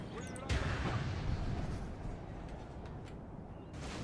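Gunfire and artillery rumble across a Total War battlefield in A Song of Ice and Fire with the Free Folk, a dense, steady low roar of massed shots heard at a distance, with someone talking over it.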